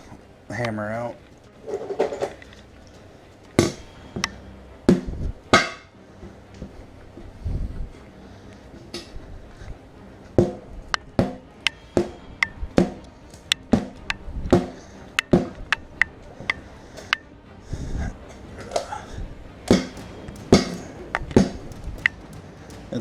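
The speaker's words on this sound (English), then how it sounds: "Guess we can get the hammer out." Sharp metallic hammer strikes breaking a tire bead ring out irregularly, mostly spaced a second or two apart, close by, with occasional brief talk between them.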